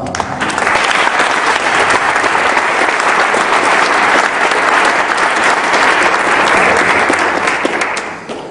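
Loud, sustained applause for school students and their parents from a district audience, thick continuous clapping that stays full and even before tapering off right at the end.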